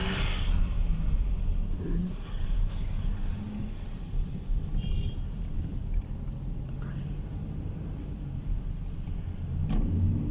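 A passenger car rolls over a rough, bumpy road, heard from inside the cabin. Heavy low rumble runs throughout, with irregular knocks and jolts. Faint voices are occasionally audible beneath it.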